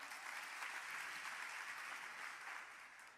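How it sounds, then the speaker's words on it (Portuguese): A church congregation claps together in steady, dense applause, loud and sustained throughout before easing slightly near the end, with no talking over it. "Aplauda o Senhor."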